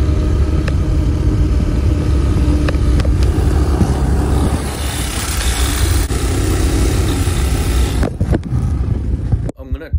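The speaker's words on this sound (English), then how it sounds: "I'm gonna try and attempt to show you guys the spark knock or the pinging in the engine." A Hawk 250 motorcycle engine running close and loud with spark knock pinging, a rough idling rumble with faint ticking, a voice briefly audible, before it cuts off near the end.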